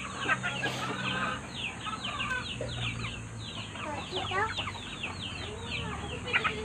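Chickens cluck and chatter in short, repeated bursts, fairly close and moderately loud, over a low background hum.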